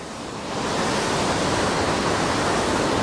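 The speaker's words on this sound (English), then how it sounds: "There is a waterfall at Devil's Hopyard." Waterfall at Devil's Hopyard State Park, heard as a steady, dense broadband rush of falling water that swells in the first half-second and then holds loud and continuous with no voices.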